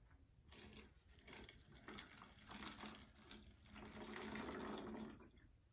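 Water being poured slowly from a measuring cup into a bottle, a quiet, continuous trickle and gurgle that swells and wavers in strength before tapering off, heard close up with no talk.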